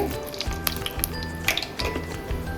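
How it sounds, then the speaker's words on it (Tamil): Hot oil sizzles and crackles steadily as fenugreek and mustard seeds fry for a fish curry, with scattered pops and a low hum underneath. "எண்ணெய் விட்டதுக்கப்புறம் கொஞ்சமாக வெந்தயம் தாளிக்கிறதுக்கு"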